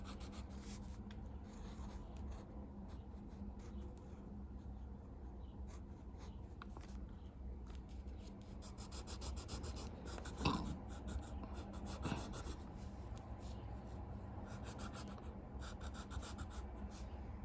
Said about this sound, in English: You just draw the top.